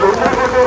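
Heavy rain pours down near a temple in Kerala, a loud dense wash of noise over a very short span.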